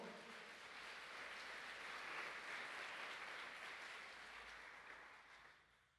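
Applause from a church congregation fills the room for about six seconds, dense and steady, swelling slightly in the middle before thinning out at the end.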